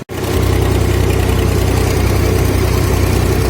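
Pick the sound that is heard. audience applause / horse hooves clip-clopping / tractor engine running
tractor engine running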